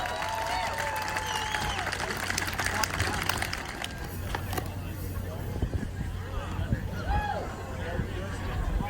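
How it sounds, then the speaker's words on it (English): A crowd at a wood chopping championship breaks into applause, a dense patter of clapping that fills the space while a voice talks over it. "Give her a big round of applause."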